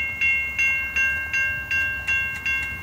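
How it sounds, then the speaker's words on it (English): CN freight locomotive and cars passing through Effingham, Illinois: low steady rumble under evenly spaced, sharp ringing tones recurring about every 0.4 seconds, loud and nearby with no voices. "We got a Canadian National freight train coming through."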